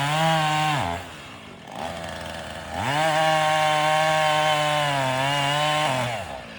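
A chainsaw cuts through a hickory tree being felled outdoors, running loud and close with a steady roar that dips in revs around the second mark, then climbs back to full throttle.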